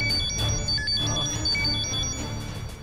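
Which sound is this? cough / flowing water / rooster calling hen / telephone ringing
telephone ringing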